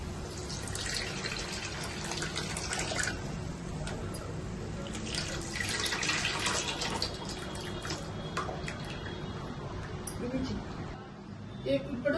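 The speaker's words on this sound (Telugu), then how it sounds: "ఇప్పుడు ఇందులో మనం రెడీ చేసి పెట్టుకున్న చింతపులుసు అయితే వేసేద్దామండి. చింతపులుసు వేస్తున్నానండి." Tamarind juice is poured into a mango fish curry, making a steady splashing trickle that runs throughout with a voice faintly underneath.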